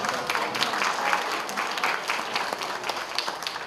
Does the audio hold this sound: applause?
yes